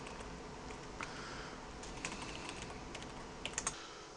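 Faint typing on a computer keyboard, a few soft, sparse keystroke clicks over a low background hiss, with a small quick cluster near the end.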